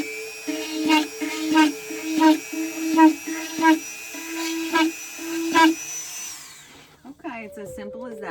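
A small drill bit bores drainage holes in the bottom of a plant container, with about nine short, whining bursts in a stop-start rhythm, close and clear, before the motor falls quiet.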